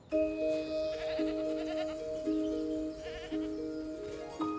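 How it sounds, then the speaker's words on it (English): Feral goats in a herd in a forest, bleating in steady harmonic calls that overlap and repeat, one close and loud with others joining, and no talking. "This is a herd of feral goats, one of the area's oldest and most elusive groups of wild animals."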